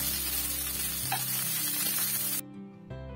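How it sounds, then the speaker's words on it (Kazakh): Onions fry in a pan with a bright, continuous sizzle that holds steady, then cuts out abruptly near the end before returning more quietly, with a low musical hum underneath. "Бірінші пиязды 5-10 минуттай қызартып қуырамыз."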